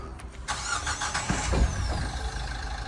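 A budget station wagon's engine cranks and turns over at a used car market, then settles into a steady low rumble nearby.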